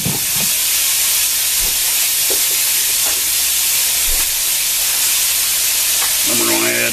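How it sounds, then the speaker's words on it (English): Minced garlic sizzles in a hot frying pan with a loud, continuous hiss of frying, joined by occasional faint knocks and a short burst of voice near the end. "a little minced garlic in there"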